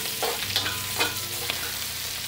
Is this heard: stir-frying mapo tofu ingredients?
yes